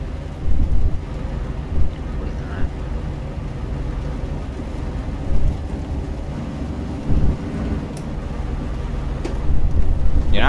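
Rain and rolling thunder in a storm during an Euro Truck Simulator 2 drive, a steady low rumble with a few louder swells, heard alone without talk.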